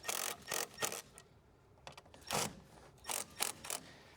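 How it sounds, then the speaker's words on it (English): Short, close ratcheting clicks come in quick bursts with pauses as a hose clamp is tightened on a K&N cold air intake being fitted to a Honda Civic, with no speech over it. "I'm going to go ahead and tighten up this hose clamp."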